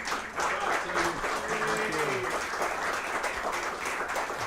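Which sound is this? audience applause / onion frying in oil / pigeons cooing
audience applause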